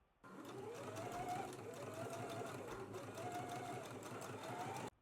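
A sewing machine stitches a quarter-inch seam around the outer edge of a fabric flower, starting abruptly and running in one steady, close whirring burst with slight speed swells, then stopping sharply.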